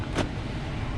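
The power door lock of a 2005 Lexus RX330 actuates with a single quick mechanical thunk, heard close up against a steady low background rumble.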